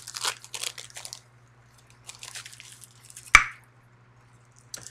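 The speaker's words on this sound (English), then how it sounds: "I can't talk to y'all and chew at the same time" Food being chewed with the mouth, with bursts of crunchy, moist mastication noises near the start and a sharp crunch later, fairly close and moderately loud, no talking.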